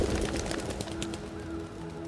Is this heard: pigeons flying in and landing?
yes